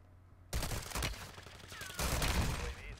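Gunfire from the video game Warzone 2, two loud close bursts of rapid shots about a second and a half apart, with no talk.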